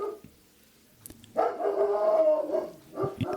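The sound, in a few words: dogs barking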